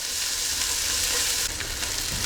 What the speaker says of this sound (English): after about 10 minutes of frying these onions off